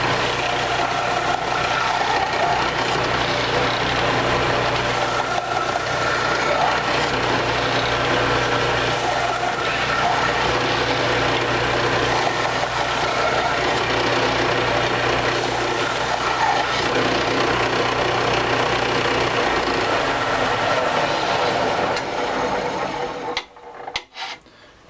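A knife grinding machine works a knife bevel with a continuous harsh rasping grind over a low motor drone, loud and sustained for most of the span before cutting off near the end.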